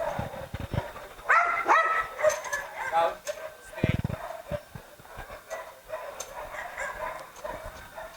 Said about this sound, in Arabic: كلب متدرب بتاعه شراسه